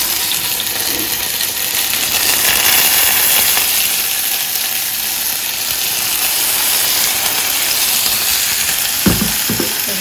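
Fish frying in melted butter in a pan, a steady loud hiss and sizzle running throughout, close and continuous, with a brief clatter near the end and no talking.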